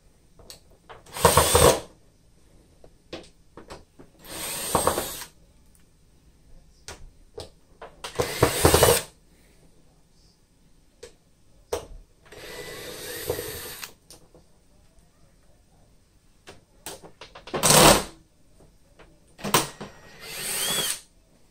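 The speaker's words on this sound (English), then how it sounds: "Looks like there's 7 screws total, so let me take them off real quick here." Power screwdriver backing screws out of the rear panel of a Samsung TV, six or seven separate whirring bursts of a second or two each, close and loud, with quiet handling between them.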